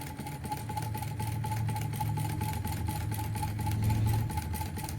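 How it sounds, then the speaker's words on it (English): A steady, fairly loud traffic engine drone from outside rumbles continuously with a faint pulsing hum, no voices over it. "the traffic noise outside sometimes can get loud"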